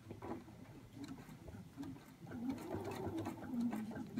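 A sewing machine runs steadily while stitching a thread-painting outline around an appliqué figure on a quilt row block, its fast rhythmic needle hum close and continuous with brief shifts in pace.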